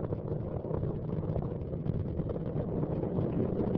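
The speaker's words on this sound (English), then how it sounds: "All three liquid fueled engines are back at full throttle." Space Shuttle Atlantis on the STS-115 launch, its three liquid-fuelled engines back at full throttle, gives a steady, muffled low rumble with a windy, buffeting texture, continuous and heard from a distance.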